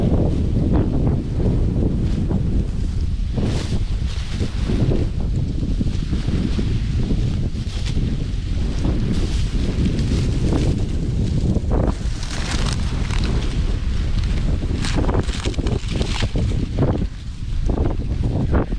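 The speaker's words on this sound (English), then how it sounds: "the wind has come down some since it was this morning" Strong wind blowing across an open farm field with wind-damaged corn, a constant loud roar buffeting the microphone with rustling gusts, no voices.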